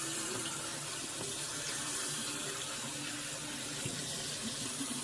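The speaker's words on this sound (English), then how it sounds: "I'm just giving this pasta a good rinse" Water runs from a tap over pasta being rinsed, a steady, even hiss, continuous and fairly quiet, with no voices.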